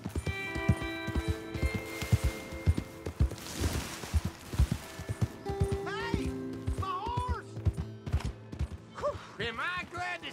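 Horse hooves clip-clopping in Red Dead Redemption II, a steady rhythmic trot with creaking tack and mechanical clatter, close and loud, with voices speaking over the later part.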